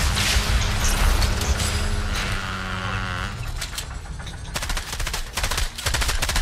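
Gunfire in the video game Fortnite, bursts of rapid automatic shots at close range, first dense and loud, then sharper separate volleys toward the end.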